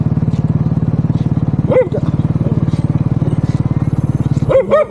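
A motorcycle idles or rides nearby with a steady, close putter of rapid engine pulses, interrupted by a couple of brief voiced sounds from people nearby.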